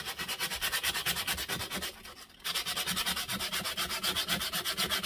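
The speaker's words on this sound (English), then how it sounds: "Once again, it's that 120 grit sandpaper." Hand sanding the metal of a Stanley No. 4 1/2 plane with 120 grit sandpaper, close rhythmic rasping strokes in rapid succession with a short pause midway.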